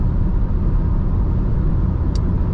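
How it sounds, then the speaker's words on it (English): Steady low tire roar and side wind noise fill the cabin of a moving 2021 Renault Megane on rough asphalt at night, a constant broadband rumble with no speech. "you can hear a little bit tire noise and a little bit side wind"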